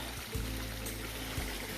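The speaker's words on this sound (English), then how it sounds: "this is a nice little waterfall place right here" A small waterfall on a hiking trail runs with a steady, full rushing wash of water, constant and close, with a couple of soft bumps from handling.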